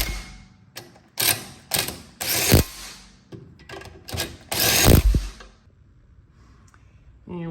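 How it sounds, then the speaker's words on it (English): A small impact gun tightens the lug bolts on a Porsche Cayman/Boxster axle puller in a series of short, loud, rattling bursts. The bursts are grouped with brief pauses between them, and a quiet stretch comes near the end. "Any small little impact gun will do."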